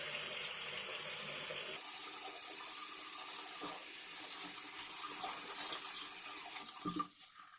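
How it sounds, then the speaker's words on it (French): Tap water running steadily into a bathroom sink while a face is rinsed over it, a constant close hiss that shifts midway and ends in a few splashes. "je me rince bien."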